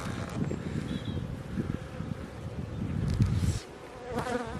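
A small swarm of honeybees hums steadily around a hive outdoors, a dense continuous drone with passing individual buzzes close to the microphone, some wind rumbling underneath.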